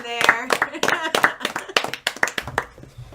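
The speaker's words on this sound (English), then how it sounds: "Real claps." Hands clap in sharp, quick bursts in a radio studio as a sendoff for a colleague on his last day, mixed in with lively overlapping talk close to the microphone.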